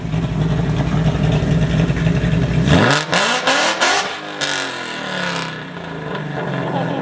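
A 2023 Mustang GT with Kooks catless headers idles with a lumpy burble, then is revved hard in a few sharp, loud blips that rise and fall before settling back to idle, heard up close.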